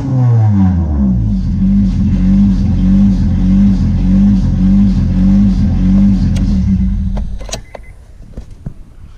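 A car engine with an internal vacuum leak runs with a loud, steady, pulsing hum, then cuts off near the end, leaving a few faint clicks.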